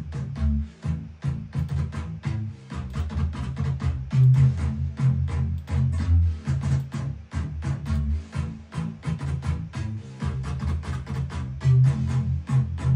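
Layered electronic bass lines with effects enabled on every bass drive a dense, pumping rhythm of rapid repeated low hits, loud and continuous with short dips between pulses.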